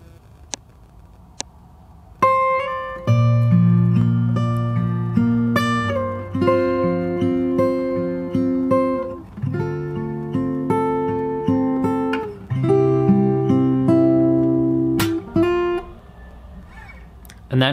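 Fingerstyle acoustic guitar plays the intro of a song, with a few faint ticks before a steady run of plucked chords and melody notes with slides, close and clear.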